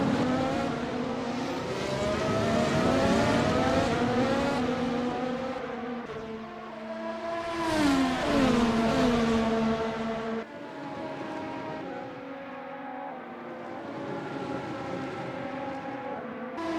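Race cars lap the Bahrain circuit with high-revving engines that scream and shift pitch steadily, rising and falling as they pass, loud and continuous without talk.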